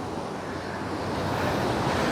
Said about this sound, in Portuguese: O mar tá vindo bem aqui, ó, batendo bastante.